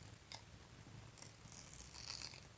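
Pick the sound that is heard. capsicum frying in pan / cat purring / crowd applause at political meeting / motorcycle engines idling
cat purring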